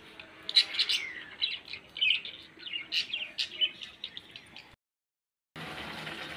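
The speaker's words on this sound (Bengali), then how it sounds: "এই যে একজনের পাখি দেখো" Pet birds give a run of quick, bright chirps and tweets at close range, repeating in short bursts before a sudden silence, then a plain background hiss.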